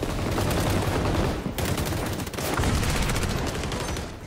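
Rapid gunfire, including shotgun blasts, erupts in the video game XDefiant as a dense, loud, continuous barrage with brief dips.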